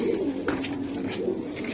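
Pair of racing pigeons, offered for sale, gives low soft coos that repeat steadily and fairly close, with no talking.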